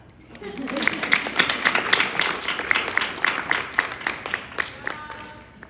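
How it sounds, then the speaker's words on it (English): A small audience at a Miami gathering applauds, a dense patter of many hands rising and then tapering off, with voices talking over it. "Clap for us, yeah?"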